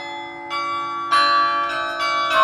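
Carillon bells in a university campanile tower ring out loud and clear. Several strikes arrive in sequence, each leaving a long, overlapping metallic hum, with no voices over them.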